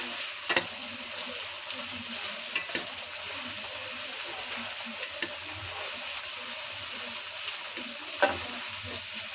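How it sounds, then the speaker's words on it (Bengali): A soft, steady sizzle of shrimp frying gently in a pan, with a few faint clinks of stirring scattered throughout. "চিংড়ি মাছ ভাজা হয়ে গেছে, বেশি ভাজবো না, তা হালকা করে ভাজে নিচ্ছি"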